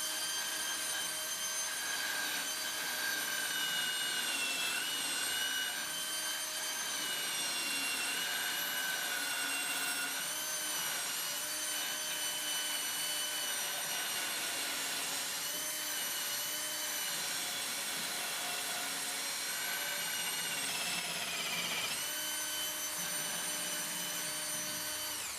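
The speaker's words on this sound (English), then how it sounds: "No, I don't like this wire wheel." A wire wheel spins on a power tool against metal during a transmission swap on a 1968 112, giving a steady, loud, continuous high whine with bright harmonic tones and a brief dip near the end.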